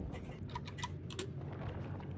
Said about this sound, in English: Yep, Burnswell mechanical keyboard.